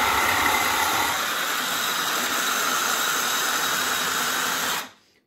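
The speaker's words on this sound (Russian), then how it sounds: "Сейчас мы вот этим блендером измельчим это все дело." Hand blender whirring as it purees onions with egg yolk for juicy fish cutlets, a loud steady motor drone with hissing grind that runs nearly five seconds, then cuts off abruptly.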